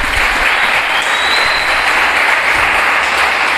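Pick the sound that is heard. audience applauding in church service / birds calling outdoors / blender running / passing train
audience applauding in church service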